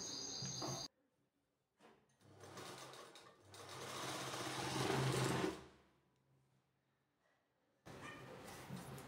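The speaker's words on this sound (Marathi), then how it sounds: "खाचाला खाचा असं जॉईन करायचा आहे आणि इथं टिप टाकून घेऊयात।" A sewing machine stitching a patch onto a kurti, whirring in short bursts with quiet pauses between runs, close and clear with no speech.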